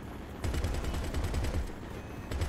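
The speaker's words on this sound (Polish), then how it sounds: "coś tutaj strzela, gdzieś z daleka" A rapid string of automatic gunfire in GTA 5 Online on Cayo Perico, a fast, even rattle of shots heard at a distance and lasting a couple of seconds, with no talking.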